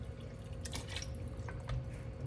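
White vinegar poured from a filled cooking spoon into a pot of cooking BBQ sauce, a light trickle and a couple of soft drips close by over a low steady background hum.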